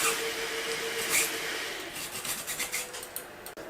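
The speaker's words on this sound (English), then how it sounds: "using a jigsaw blade and kind of going through all the little crevices like that" A jigsaw blade rasps across a 3D printed part, working into small crevices with a close, scratchy rubbing that turns into short uneven strokes toward the end.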